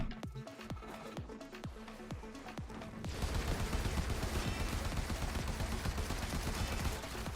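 Secondary weapon fire in the video game Shrine of the Eidolon: a slow run of separate shots for about three seconds, then dense, continuous gunfire and combat noise that stays loud to the end, with no talking.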